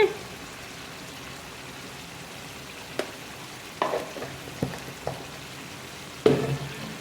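Chili powder frying with chicken curry masala in a pan, a soft steady sizzle running throughout, broken by a few sharp clatters of a ladle stirring near the middle and toward the end.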